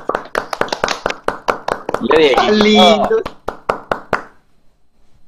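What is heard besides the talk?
applause for Diego Garzón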